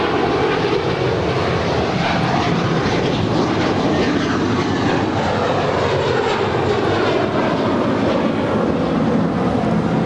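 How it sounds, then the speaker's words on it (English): An American Airlines Airbus A321 departs LAX for Chicago with a loud, continuous broadband jet roar that holds steady throughout, no voices over it. "This is American Airlines 669 departing to Chicago. It's an A321."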